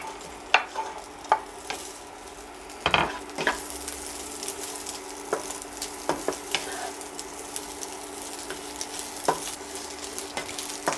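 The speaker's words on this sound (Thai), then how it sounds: "เดี๋ยวเราจะเอาคอหมูย่างเนี่ยรวนกับน้ำซอสก่อน" Grilled pork neck stir-fried with sauce in hot oil, a constant low sizzle under repeated sharp spatula scrapes and taps against the pan, close by.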